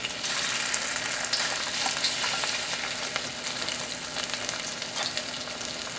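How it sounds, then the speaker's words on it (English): Pork shoulder stir-fries in hot vegetable oil over medium-high heat, a loud, dense, continuous sizzle with faint crackles and scraping from stirring, close by and without voices. "We're gonna stir fry the pork"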